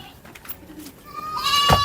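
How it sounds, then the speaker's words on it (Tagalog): A single goat bleat rings out near the end, a short wavering call that is moderately loud and slightly distant, over a faint background. "Parang may kambing doon guys. kambing o parang bata."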